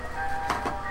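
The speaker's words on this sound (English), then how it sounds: "Go away, slowly moving ice cream truck." An ice cream truck jingle plays in a Star Wars Battlefront Clone Wars match, a short burst of tinny tones heard alone at moderate volume.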